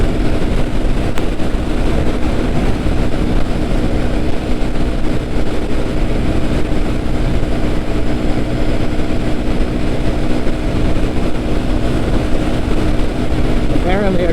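A motorcycle held at wide open throttle roars continuously under heavy wind buffeting, loud and close, with a rider's voice talking over it.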